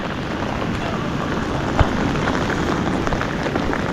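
Steady, dense rainfall patters on surfaces during days of continuous rain, a continuous even hiss with one brief thump partway through.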